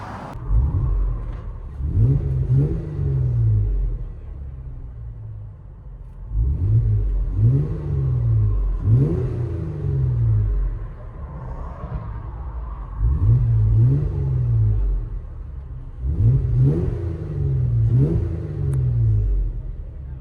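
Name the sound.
Jeep Wrangler 3.6L V6 engine revving with Borla ProXS exhaust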